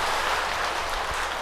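Dense, steady audience applause for a choir at a Buddhist temple's first-of-the-month service, an even wash of many hands clapping throughout.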